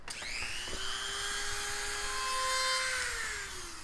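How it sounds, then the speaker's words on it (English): A small Dremel rotary tool whines at high speed, drilling into windshield glass at a chip, grinding steadily for a few seconds before its pitch drops as it slows, close by. "I'm going to use my Dremel and my Dremel bit, and I'm going to drill in"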